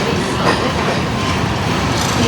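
Mumbai suburban local train running on its tracks toward Kurla: a loud, continuous rolling rumble with dense wheel clatter and rattling carriage noise, no voices.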